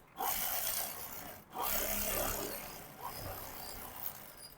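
A sewing machine stitches along the canvas edge of a blouse, running in close, steady whirring bursts broken by short pauses.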